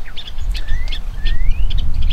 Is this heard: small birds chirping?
yes